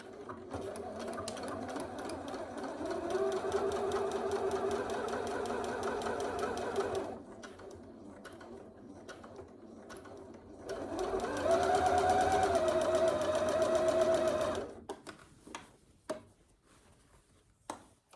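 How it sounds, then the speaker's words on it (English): A sewing machine stitches a dress bodice seam in two long runs, a steady motor whir for several seconds, a pause, then a second louder burst for the back stitch, close and alone with no talk. "So we'll go ahead and stitch that. And back stitch."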